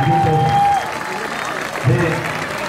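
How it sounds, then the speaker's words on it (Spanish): Audience clapping for a second-year student group's school Christmas performance, moderate and continuous, mixed with voices, a whistle-like tone early on and a brief louder burst near the end. "fuerte un aplauso para este instituto"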